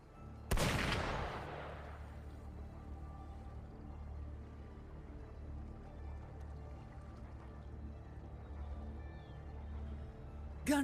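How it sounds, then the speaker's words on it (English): A single sharp gunshot in the video game Wuthering Waves cracks loudly near the start and decays into a long echoing rumble, followed by low ambient drone and another brief burst at the very end. "Gunfire! We've got intruders."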